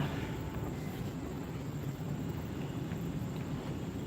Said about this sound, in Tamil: காற்று அருமையாக அடிக்குது